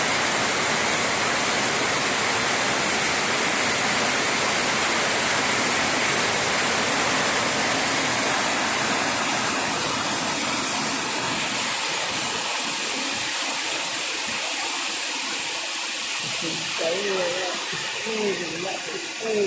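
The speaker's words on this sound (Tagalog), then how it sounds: "Yung ulan na." Heavy rain pours steadily as a loud, dense, continuous hiss through the whole stretch, easing slightly toward the end, where faint voices come in underneath.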